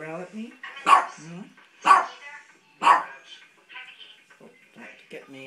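A puppy barks three times, sharp, close and evenly spaced about a second apart, with softer growly whines between them while someone talks over it.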